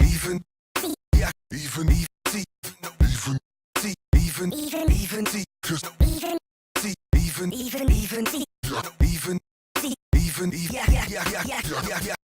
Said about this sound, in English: chopped some stuff up for you and isolated the drums and the vocals, and this is what it sounds like